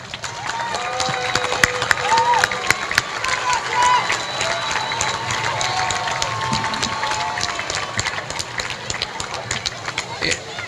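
A crowd at a county bicentennial torch ceremony gives a long round of applause, with dense clapping mixed with some cheering and murmuring that carries on for several seconds.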